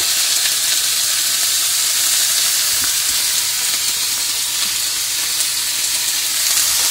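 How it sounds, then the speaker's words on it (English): Steady, dense sizzling of food stir-frying in a hot pan, a continuous crackling hiss with no talking. "And just stir fry that in there"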